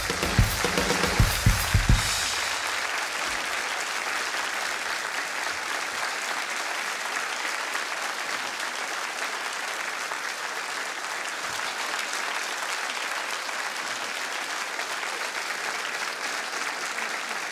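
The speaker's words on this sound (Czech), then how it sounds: "Taky vám hodně tleská" Studio audience at a Czech TV talk show applauds steadily and loudly for the full stretch, a dense wash of many hands clapping, with a brief burst of voices and louder activity at the very start.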